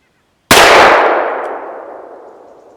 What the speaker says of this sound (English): that was a single action shot